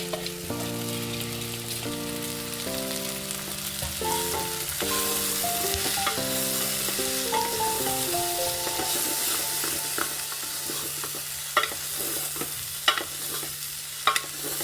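Sprouted horse gram (madake kalu) beans frying and being stirred in a pan for a healthy usli, a steady sizzle under soft music with occasional scraping clicks of a spoon near the end.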